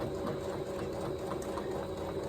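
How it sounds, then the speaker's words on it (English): A sewing machine top-stitches around the upper edge of a quilted fabric basket at a short stitch length, a continuous close motor hum with fast steady needle pulses throughout. "I'm going to sew all the way around the upper edge, giving it a top stitch here."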